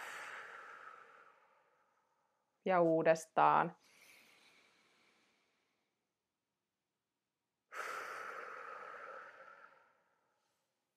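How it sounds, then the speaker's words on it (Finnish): Deep breathing during a relaxation exercise after swimming training: a long exhale, then a spoken cue, then a slow inhale and a later long exhale, close and soft with silent pauses between. "otetaan syvään happea, nostetaan samalla kädet kohti kattoa"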